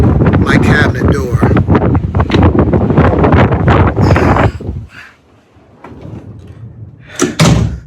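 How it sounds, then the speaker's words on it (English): A cabinet door on a windy cruise ship balcony gets a bang and rattle against strong gusts, the wind roaring and buffeting loudly throughout before dropping briefly, then a sharp burst near the end. "Just watch as I try to open my cabinet door."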